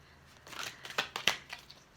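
A quick run of soft, papery riffles as tarot cards are shuffled by hand up close, several brief crisp bursts within about a second, with no talking.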